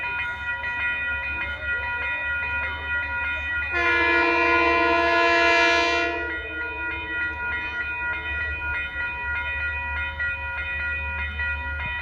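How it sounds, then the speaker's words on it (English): Metro-North train passing at Manitou station, a low rumble under steady tonal hum, then a loud multi-tone horn blast lasting about two seconds before the rolling rumble continues. "Metro North is going to do some business at Manitou"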